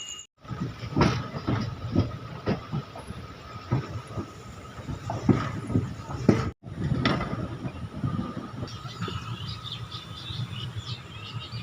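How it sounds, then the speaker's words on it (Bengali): A Balurghat–Howrah Express passenger train with ICF coaches departs, rumbling with rhythmic clacking of wheels over rail joints, steady and close, with a brief gap and faint squealing later. "এখন ট্রেনটি ছাড়ছে"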